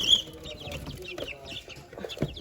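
Chickens clucking softly in a small backyard flock near a brooder, with scattered bird calls, rustling and low background noise through a short stretch.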